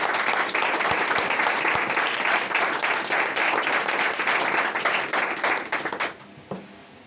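Audience applause at a seminar: dense, steady clapping from many hands fills the room for about six seconds, then thins out and fades.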